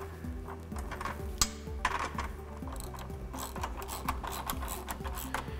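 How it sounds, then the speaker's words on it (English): A wrench tightens the mount nut on a Razorback fold-down glass windshield fitted to a Polaris RZR, giving a steady run of quiet, close ratcheting clicks over faint background hum, no voices. "then you want to just tighten this down with the wrench"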